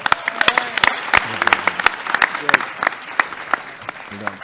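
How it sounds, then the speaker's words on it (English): Applause after a startup pitch at a Shark Tank-style event, sparse sharp individual claps close to the microphone with irregular rhythm, mixed with murmured voices in the background. "But a big round of applause for Lajawab."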